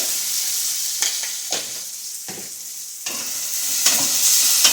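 Okra being stir-fried with turmeric in a hot pan, a loud steady sizzle broken by several scraping strokes of a spatula, with no talking.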